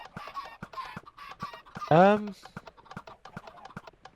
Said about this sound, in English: the eggs are spawning chickens who die suffocating inside the glass